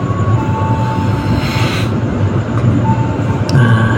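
The KA Progo passenger train, running between Jakarta and Yogyakarta, rumbles steadily along the rails with a continuous loud roar and brief metallic squeals, heard from on board.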